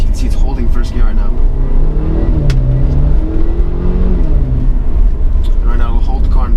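Mercedes CLA250 engine in sport mode, held in first gear while accelerating, a steady loud engine drone with rising revs, heard from inside the car under talk.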